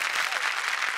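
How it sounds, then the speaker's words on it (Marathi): Studio audience applause rises for Sagar on the Marathi comedy show Chala Hawa Yeu Dya, a brief, loud and dense burst of clapping with no voices. "जोरदार टाळ्या सागरसाठी"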